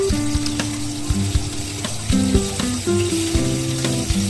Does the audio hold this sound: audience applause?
no